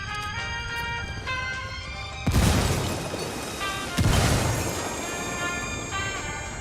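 Frag grenade blasts in the Ghost Recon Wildlands video game, two loud booms a couple of seconds apart cutting through steady game music and ambience.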